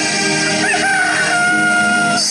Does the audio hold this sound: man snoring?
no